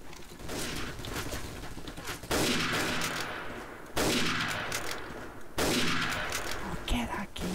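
Day of Defeat gunfire cracks out in three sharp bursts spaced about a second and a half apart, each followed by a ringing decay, over a constant backdrop of in-game battle noise.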